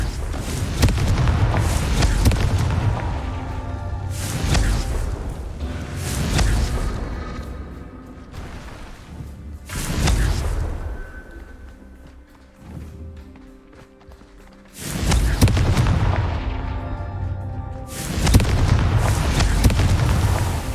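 Confringo fire spells blasting in the Hogwarts Legacy video game: loud, heavy booming bursts that recur every few seconds amid a dense, rumbling game soundscape, with quieter gaps between them.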